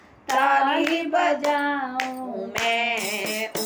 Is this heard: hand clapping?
yes